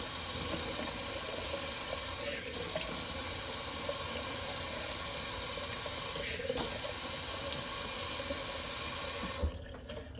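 Cold water runs hard from a tap to rinse during a traditional wet shave, a loud continuous rush that briefly dips twice and then shuts off near the end.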